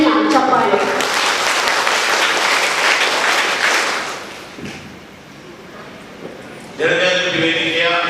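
Audience applause fills a hall at a self-help group federation's office-bearer installation ceremony in Konaje zone: a dense, steady clapping that fades over several seconds, with a speaker's voice before it and again at the end.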